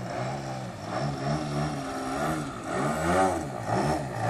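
A 42% scale Hyperlite Slick 540 RC plane flies low past the field, its propeller engine droning loudly and steadily with rising and falling pitch as it passes close by.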